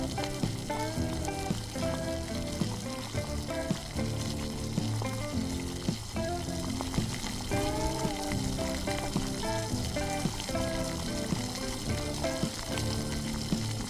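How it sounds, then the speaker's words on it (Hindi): Gravy hitting hot oil and dry spices for dhaba-style egg curry, a steady loud sizzle and frying hiss throughout with faint stirring, no talking. "इसके बाद हम लोग इसमें ग्रेवी डालेंगे।"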